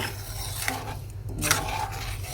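A spoon stirs sugar into a milk and nut mixture in a pan, giving soft, close scraping and rubbing strokes in an uneven rhythm, with no voices.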